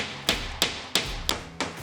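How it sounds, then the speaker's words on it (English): A hammer drives nails into a wooden guardrail on DIY laundry-room shelves: five sharp, evenly spaced knocks, close and loud, each with a short ringing tail. "nail the guardrail in place"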